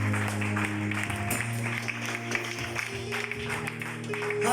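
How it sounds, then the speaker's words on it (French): Church congregation clapping for Jesus during a pastor's sermon, a sustained dense wash of applause over steady music, loud and close throughout. "Acclamons pour Jésus."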